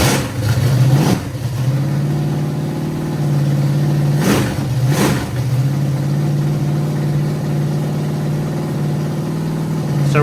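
A loud small-block Chevy V8 engine idling roughly with open headers, a deep steady rumble broken by a few sharp revs near the start and middle.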